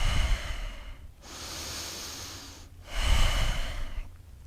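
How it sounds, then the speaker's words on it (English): Deep, full breaths during a yoga side bend in a shoulder strength and mobility vinyasa session, two long close inhale-exhale cycles with a soft airy hiss and short pauses between, no talking. "give it 3 breaths. Full, complete breaths."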